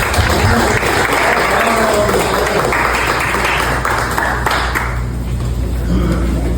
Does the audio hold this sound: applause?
yes